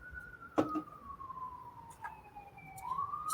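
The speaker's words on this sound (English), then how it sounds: "that siren surprisingly isn't coming from me" A police siren passes outside, its single wailing tone sweeping down then rising again at mid distance, faint and steady with a brief knock near the start.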